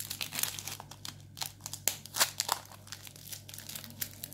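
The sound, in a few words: wrapping a coin envelope with adhesive tape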